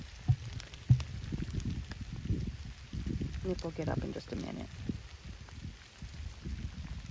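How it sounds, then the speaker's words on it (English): Rain falls outdoors around an emu nesting on its egg, a soft steady patter with a few louder drops, partly under a person talking nearby. "I'll end up having to grab it because it's raining"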